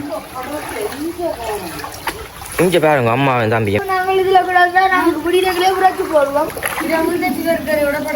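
Floodwater from heavy rain in Jaffna splashes and churns nearby in irregular surges, with a person talking over the watery sloshing for most of the stretch.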